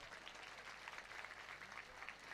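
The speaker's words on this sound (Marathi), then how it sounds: "सर्वांनी टाळ्या करून, हात वर करून टाळ्या वाजवायच्यात" Faint, distant applause from a crowd with hands raised at a farmers' political meeting in Maharashtra, steady clapping throughout with no speech.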